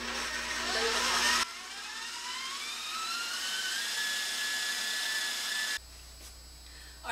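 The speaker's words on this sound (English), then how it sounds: "Our cream cheese is whipped up together with the blueberry puree and the orange zest" Electric hand mixer whipping cream cheese with blueberry puree and orange zest, a steady high motor whine that shifts pitch as the beaters work, loud and close with no talking.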